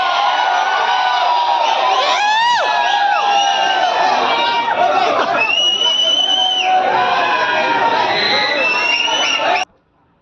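A noisy crowd at the Wonderla amusement park keeps up loud, continuous screams and shouts, with high rising shrieks and yells piling over one another, then cuts off abruptly at the end.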